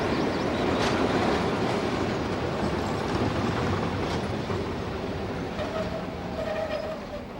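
A British Rail diesel multiple unit train passes close by, its loud rumble joined by rhythmic clickety-clack of wheels over rail joints, easing off slightly as it goes.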